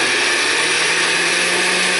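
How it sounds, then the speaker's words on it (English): A blender whirs loud and steady, chopping black cherries for wine with a constant high-pitched motor whine and no breaks. "Put the top on the blender, and put it on the blender."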